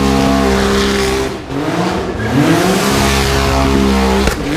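A Porsche 965 Turbo RWB revving hard while doing donuts, a loud, close engine whose pitch rises and falls between throttle blips, with tire squeal and skidding under the roar.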